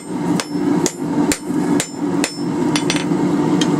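Hot forged iron plant hanger straightened by hand hammering, close, loud, evenly spaced metallic strikes at roughly two per second, about eight blows.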